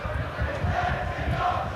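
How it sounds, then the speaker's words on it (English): A rugby league crowd at Warrington's ground roars loudly in reaction to a penalty incident, a dense, sustained mass of shouting and jeering voices filling the whole moment. "can hear what the crowd in the House of Pain think about that."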